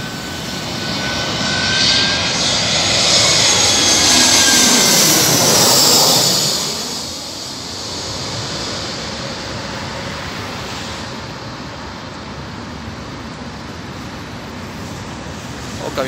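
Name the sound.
jet airplane landing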